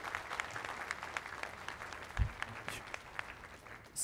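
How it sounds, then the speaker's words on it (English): A conference audience claps together in a soft, steady patter that sounds somewhat distant and lasts a few seconds, with a faint low thump partway through. "Big applause."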